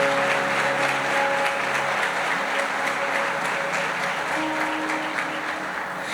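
A church congregation breaks into sustained, dense applause that holds steady and loud for the whole stretch, with a faint sustained tone running underneath.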